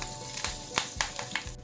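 Chopped curry leaves hit hot oil with a dried red chilli for tempering, crackling in several sharp pops over a soft continuous sizzle, close and alone.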